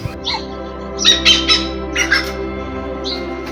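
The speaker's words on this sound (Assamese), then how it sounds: "এয়া ধনেশ চৰাই জাকৰ বিচৰণ" A flock of hornbills calls near an eco resort beside Pobitora wildlife sanctuary in Assam. Loud, harsh squawks come in several irregular bursts over a few seconds, close and clear, with no talking.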